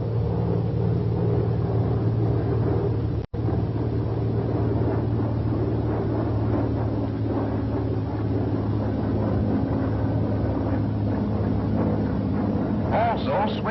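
A WWII U.S. Navy F6F Hellcat fighter plane climbs after takeoff, its engine a loud, steady, unbroken drone with a brief dropout near the start.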